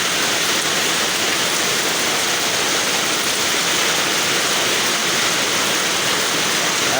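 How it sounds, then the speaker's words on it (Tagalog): Heavy rain pours down steadily in a dense, loud, unbroken hiss, close by and constant throughout, with no voices over it. "Lakas po ng ulan"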